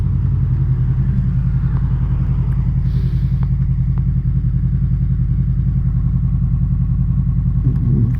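A Honda VFR800 motorcycle running, a steady, loud low engine drone with constant rumble that does not change throughout, no voices.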